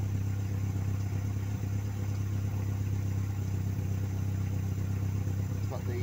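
An engine idles close by at a low, constant hum with faint irregular ticks and clatter through it, running slightly lumpy, steady and unbroken with no talking.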